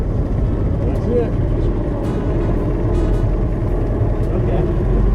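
A Ford Model T engine runs continuously at a low, rough, throbbing idle with steady mechanical chatter and a few brief higher clicks, loud and close throughout.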